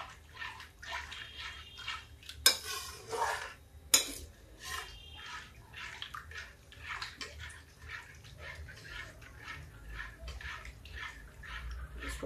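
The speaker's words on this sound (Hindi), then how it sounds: "ये देखिए बस इसको ऐसे बस चलाते रहेंगे, ये देखिए जब तक ये गर्म ना हो जाए इसको चलाते रहेंगे" Spoon stirring spinach curry in a pan, a steady run of soft repeated scrapes and wet shuffles with two sharper metallic clinks early on, fairly quiet and close with no talking.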